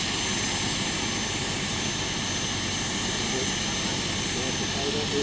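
A Vario model turbine engine mounted in a Bell 429 model helicopter runs at a steady idle, giving a continuous broadband jet whine that stays loud and even throughout, with a voice speaking over it.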